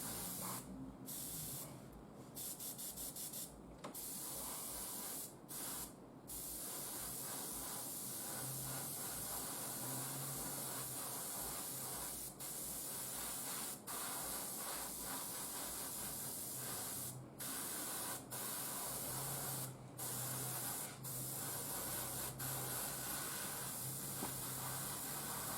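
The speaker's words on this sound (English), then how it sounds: "Just make sure you have a good control on your airbrush during spraying or during the application." An airbrush sprays paint onto an Imperial Knight miniature, giving a steady, close hiss that runs almost continuously with a few brief breaks.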